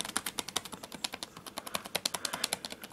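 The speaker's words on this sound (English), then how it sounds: "It's not a mechanical keyboard, but there's a lot more travel than I'm used to on a laptop." Rapid typing on the non-mechanical keyboard of an old laptop, a fast irregular stream of soft, close clicks with no talking.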